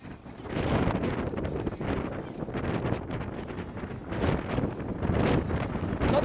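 Wind buffets the microphone around a corner during a women's rowing race, a steady rough roar that swells and fades without a break and drowns out other sound.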